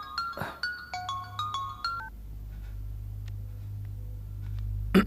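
A telephone call is placed: a quick series of dialing tones beeps out in an uneven rhythm, followed by a faint steady hum as the line connects, with a click at the end.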